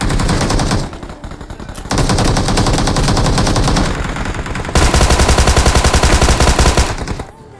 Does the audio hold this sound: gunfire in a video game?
yes